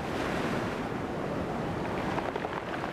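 Storm waves break along the Camargue coast under strong wind, a dense continuous roar of surf and buffeting wind noise across the microphone, steady throughout with no voices.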